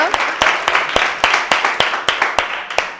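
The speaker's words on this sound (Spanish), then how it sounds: "un aplauso para ellos" Sparse, rhythmic hand claps at a women's emotional-wellness talk, sharp individual claps at a steady pace rather than a full crowd ovation, close and fairly loud.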